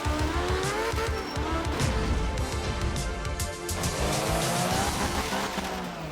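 Rally car in the video game Art of Rally, engine roaring steadily with tires squealing and skidding through corners, loud and continuous without pause.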